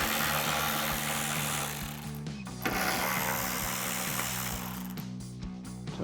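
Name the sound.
ratchet removing two T15 Torx screws from Sierra taillight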